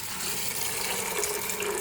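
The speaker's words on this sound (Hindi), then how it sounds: "पानी शामिल करेंगे।" Water is poured into a pressure cooker holding rajma (red kidney beans) for a curry, a steady, close, continuous splashing stream with no talk over it.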